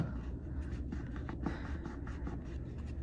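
A pen or pencil scratches steadily across paper in short, close strokes, soft and continuous.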